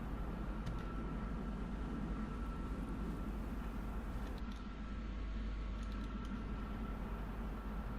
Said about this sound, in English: Can hear a jet.